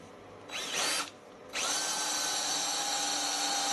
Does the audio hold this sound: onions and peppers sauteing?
no